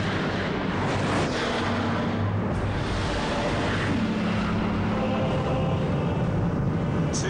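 A Bugatti Veyron accelerates at full throttle on a closed-road straight, its engine a heavy, roaring rumble with rising tonal drones and thick wind buffeting, loud and continuous throughout with no speech.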